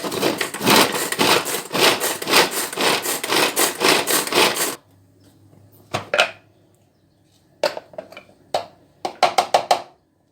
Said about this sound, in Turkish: ince ince kıyıyorum.